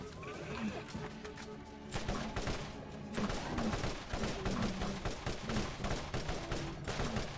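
Dense gunfire rattles on without pause in the Borderlands video game, rapid shots layered with bursts of automatic fire and impacts, loud and sustained.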